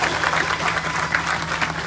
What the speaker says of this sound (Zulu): ngicela simshaleni ihlombe ubaba uNala